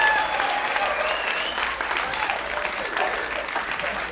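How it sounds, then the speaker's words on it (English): Comedy club audience giving a big round of applause after a stand-up set, sustained dense clapping with some whoops and cheers on top, steady and fairly loud throughout. "Big round of applause for our boy."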